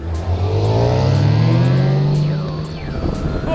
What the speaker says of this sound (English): The straight six from BMW, it's a classic. I really love this engine, the way it sounds